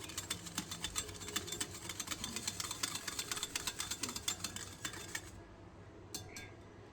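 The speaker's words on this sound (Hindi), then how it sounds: "इसको अच्छे से आप विस्क कर लें ताकि इसमें कोई भी लम्प्स वगैरह ना रहे" A whisk clinks rapidly and steadily against a bowl while milk is beaten with cornflour and milk powder, a busy metallic rhythm lasting about five seconds before stopping, followed by quiet.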